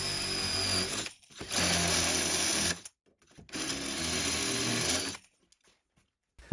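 A Mafell dowelling machine bores dowel holes in wood with a slightly blunt bit, two loud whirring bursts of about two seconds each separated by short silent pauses, close up.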